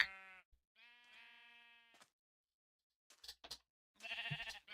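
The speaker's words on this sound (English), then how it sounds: "Alright, sheep farm looks good." Sheep bleat on a farm in the Minecraft video game, a few drawn-out bleats in a row, close and clear, with quiet gaps between them.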